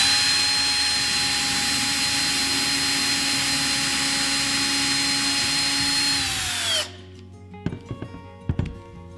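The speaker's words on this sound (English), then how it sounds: "That way you can drill your preset holes." A power drill runs steadily and loud for about seven seconds, boring preset holes for a deer antler display mount, then winds down and stops, followed by a few faint clicks and handling knocks.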